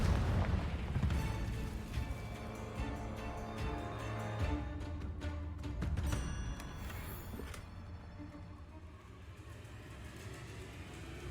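Fiery Confringo blasts from Hogwarts Legacy go off as several booming impacts, with strong bursts near the start and again around the middle. Between them come crackling debris and a fading rumble, and there is no talking.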